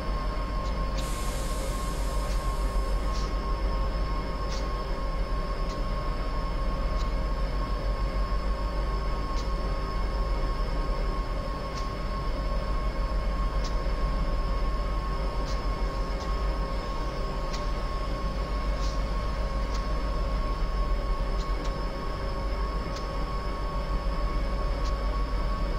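Passing train in Train Simulator 2015 on the Donner Pass route with an SP SD45 locomotive: a steady rail rumble and hum accompanied by regular wheel clicks on rail joints, continuous and moderately loud, without a voice.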